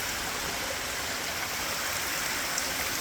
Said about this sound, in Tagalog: Agusan ng tubig ito, 3 pairs oh.